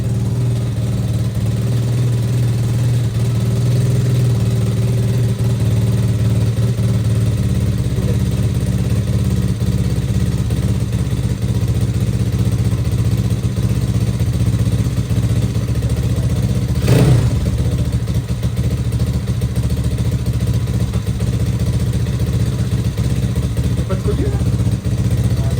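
Apollo RFZ motorcycle engine idling steadily at low revs, a constant near drone with one brief sharp noise midway, under quiet talk.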